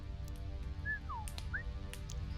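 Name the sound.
long whistle imitated by reader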